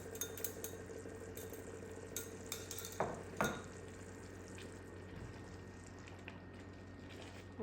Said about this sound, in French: On vient bien mélanger le tout.